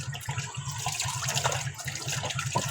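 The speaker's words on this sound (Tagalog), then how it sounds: "Hugas-hugas muna tayo guys." Tap water runs steadily into a sink while dishes are washed, a continuous close splashing hiss with faint clinks of dishware, no talking.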